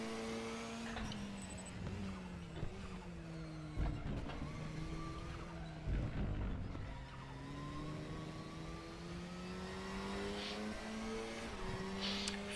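Porsche GT4 race car engine at Spa in the RaceRoom racing game, a steady loud drone with gear changes and rising and falling revs, sustained throughout with no pauses.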